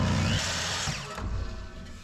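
A small Makita power tool cuts wooden trim aboard a wooden boat with a brief, loud, whining burst that drops in pitch and fades as the cut ends.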